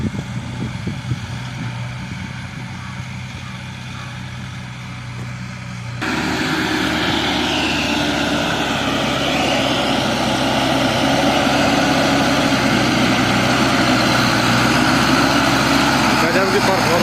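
A Sonalika 750 DI tractor labours up a steep slope, its engine drone stepping up to a louder, fuller roar midway and holding steady, heard close with no talk over it.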